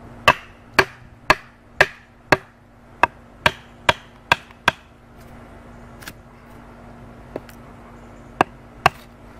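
A knife is struck through a slice of wood to make a fireboard. About ten sharp, close whacks land in a quick, regular rhythm, followed by a few scattered knocks.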